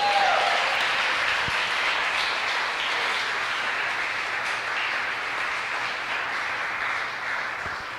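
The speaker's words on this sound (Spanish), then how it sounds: "¿Cuántos le dan un fuerte aplauso a Dios?" A church congregation applauds during a sermon, broad sustained clapping that stays fairly even and slowly eases off, with no talking over it.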